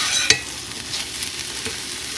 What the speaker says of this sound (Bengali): থোর ভাজা করে নিচ্ছি।